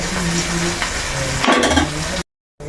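Sardines fry in a pan, a steady close sizzle and crackle with a brief burst of stirring or turning midway, then a short silent gap before the frying resumes.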